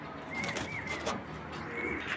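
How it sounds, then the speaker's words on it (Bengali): A pigeon of a good breed coos softly close by, a few low throaty warbles over a quiet background. "আছে কবুতরটা, এবং খুব ভালো কবুতর এটা।"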